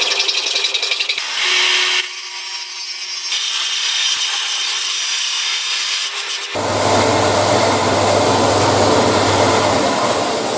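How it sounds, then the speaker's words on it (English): Steady rasping strokes of a file scraping against metal, close and continuous, growing harsher and louder partway through. "I need to file it down like I've done with that"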